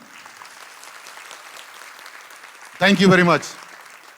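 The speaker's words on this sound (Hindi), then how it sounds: "हम भरपूर तालियों में खुदावंद का शुक्रिया अदा करते हैं" A church congregation at an Easter Vigil Mass claps steadily, a dense, even wash of applause that carries on for a few seconds before a single voice briefly speaks over it.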